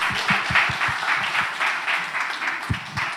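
A congregation at a church leaders' one-day retreat claps steadily for a few seconds, an even roomful of applause with occasional low thumps underneath.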